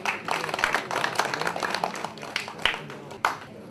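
An audience claps at the BCR award ceremony, a dense, steady patter of many hands that thins and fades out toward the end.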